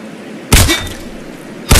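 A sniper rifle headshot in the video game Lonewolf lands as one loud, sharp crack and thud after a quiet lull, followed by a short decaying tail and another abrupt hit at the very end.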